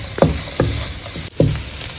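Shallots, red onions and white onions sizzle in a frying pan for bacon-egg fried rice, a steady frying hiss broken by three or four scraping stirs, close and fairly loud with no talking.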